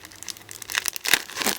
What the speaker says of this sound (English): they did a cute washi tape. I don't want to rip it. Let me just peel it off.